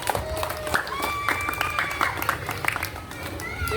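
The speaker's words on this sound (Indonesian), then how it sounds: "kita tepuk tangan untuk kita semua." A class of students clapping hands together after a locomotor movement exercise in a physical education lesson, a scattered, lively burst of claps over steady group chatter and a voice.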